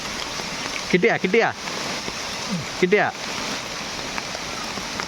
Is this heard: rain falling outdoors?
yes